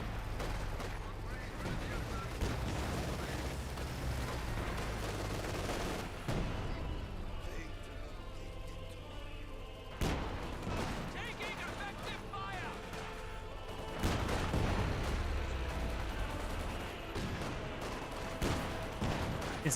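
MG34 machine gun fire in Company of Heroes 2, bursts of gunfire and artillery booms in a dense battle mix, loud and continuous with sharp cracks throughout, under a commentator talking.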